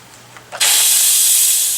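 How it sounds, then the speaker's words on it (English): An Instant Pot pressure cooker cooking a beef pot roast opens its valve for a quick release: after a couple of small clicks, a loud, sudden rush of venting steam starts and holds as a steady, close hiss. "I'm going to do a quick release, which just means I'm going to push this and watch the steam fly"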